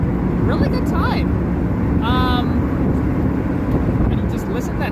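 Several Ford Mustangs cruising together on a club drive, a steady low engine and road rumble mixed with wind noise, continuous and loud, with someone talking over it.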